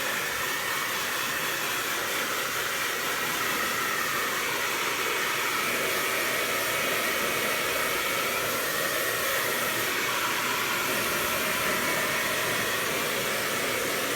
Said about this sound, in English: make sure your blow dryer is plugged in correctly. I use mine on high heat.